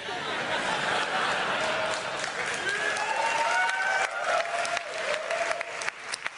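A theater audience claps at a live E3 game-industry media briefing, a dense spread of hand claps rising and falling in the room, with a few scattered chuckles and murmurs mixed in.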